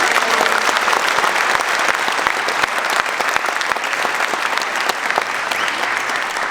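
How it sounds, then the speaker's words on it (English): An audience at a Vietnam veteran tribute in Meriden breaks into loud, sustained applause, a dense wash of many hands clapping continuously with occasional sharper individual claps standing out. "can we have a round of applause for everyone who shared their"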